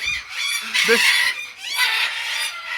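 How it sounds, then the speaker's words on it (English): Several macaws, including military and scarlet macaws, squawk harshly and loudly close by, in long raucous overlapping screeches that fill the whole stretch without pause. "Now I'm bringing the macaws inside."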